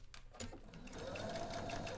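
A sewing machine stitches a seam through bulky fabric with a steady, close whirring hum that starts after a few soft handling sounds and runs evenly to the end.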